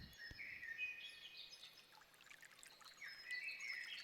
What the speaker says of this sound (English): maybe a little water stream.